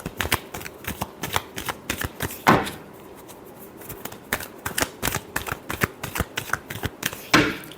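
Tarot cards are shuffled by hand in a steady run of crisp riffling bursts, close and fairly loud, with a couple of heavier slaps between the quick flurries.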